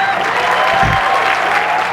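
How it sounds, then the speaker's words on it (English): A college assembly crowd breaks into applause for a staff member, a dense, steady wash of clapping at close range with a short low thump partway through. "You're going to have to stand up and take an applause."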